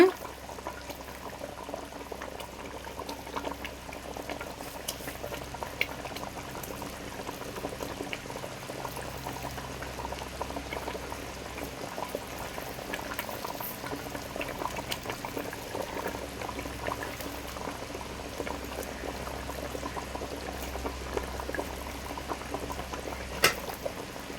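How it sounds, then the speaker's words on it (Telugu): Shilavathi fish curry simmering in a pot, a soft continuous bubbling and gurgle that holds steady throughout at a low, close level. "ఇప్పుడప్పుడే ఇంకొక 5 మినిట్స్ ఉడకనిద్దాం"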